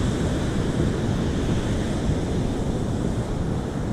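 Ocean waves surging onto the beach at Barking Sands, Kauai, with strong wind buffeting the microphone, making a loud, steady roar that continues throughout with no speech.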